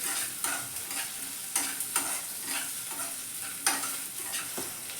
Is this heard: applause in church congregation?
no